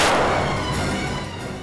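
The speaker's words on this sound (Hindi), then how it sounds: "तभी अचानक एक गोली चलने की आवाज आई" A single gunshot booms in a dark room, a sharp blast with a long, fading rumble that decays over more than a second, loud and close.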